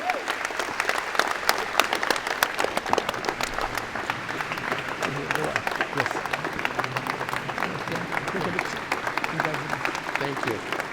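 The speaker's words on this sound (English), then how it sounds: "Give Keith a big round of applause." Sustained applause from a large crowd at a college engineering and computer science convocation, dense clapping holding at an even level throughout with no pause.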